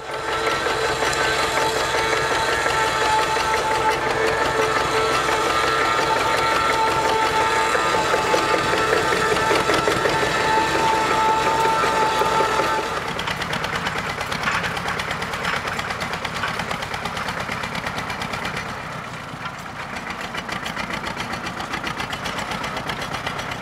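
A 1950s Volvo tractor engine runs steadily at idle, a constant mechanical drone with a rattling, knocking texture; the tone shifts slightly partway through.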